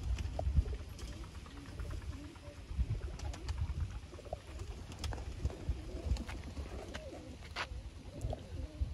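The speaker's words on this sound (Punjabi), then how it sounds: "ਸਿਆਲਕੋਟੀ ਕਬੂਤਰਾਂ ਦੀ ਫੈਮਿਲੀ" Sialkoti pigeons, a family flock kept at a pigeon loft, coo in low rolling murmurs that run on and overlap throughout, with soft flutters and rustles mixed in at close range.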